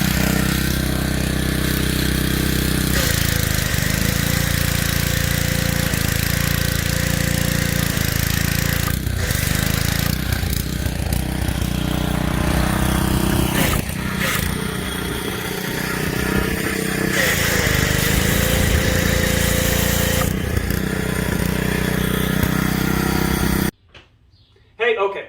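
Power washer with a Chemical Guys sprayer attachment blasting a Suzuki RM250 dirt bike, a loud continuous engine-driven drone with shifting spray noise for over twenty seconds before stopping abruptly.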